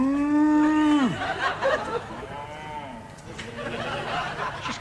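A human voice imitates the low moo of a Jersey cow: one long, deep, loud sustained bellow that drops at the end, followed by softer, lower murmuring sounds.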